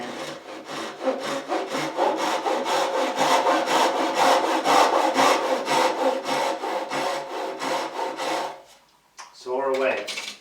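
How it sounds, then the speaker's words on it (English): A hand saw cutting wood clamped upright in a workbench leg vise, with a fast, even rhythm of about thirty loud rasping back-and-forth strokes. Near the end the sawing stops briefly, then a few last strokes follow. "grab my saw"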